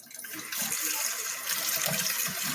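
Tap water gushing into a cooking pot filled for macaroni, a steady hissing splash that starts with a brief trickle then runs strongly and continuously, close by and with no talking.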